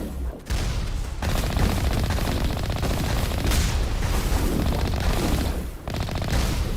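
Dense, continuous gunfire from a Mass Effect firefight, heavy rapid bursts and booms packed together almost without pause, loud and close for most of the stretch with two brief dips.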